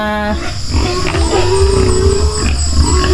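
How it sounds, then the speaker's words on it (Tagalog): Goats bleat nearby, a sustained wavering call in the middle, over a loud, busy outdoor background with low rumbling. "Yan, mga kambing natin."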